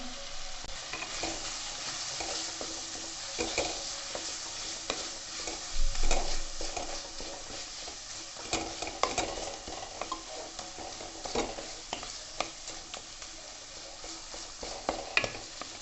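A ladle stirs and mashes pav bhaji in a pressure cooker with coriander powder, turmeric, Kashmiri red chilli and chaat masala, making a steady sizzling, scraping and squelching sound throughout, with occasional louder scrapes and no talk.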